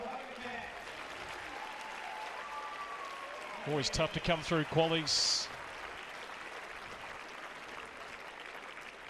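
At a tennis match at the Hobart International, the crowd gives warm, steady applause as qualifier Richel Hogenkamp walks off court. The clapping is soft and distant beneath a commentator speaking.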